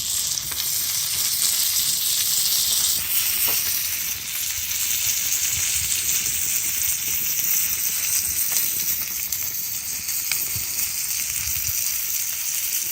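Burgers fry in a pan set over a brick rocket stove outdoors with a steady, bright hiss and occasional pops, constant and close throughout, with no talking.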